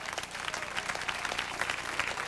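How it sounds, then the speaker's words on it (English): Television telethon audience applauding, a steady wash of many hands clapping at moderate distance for a couple of seconds without a break. "Give them a big hand."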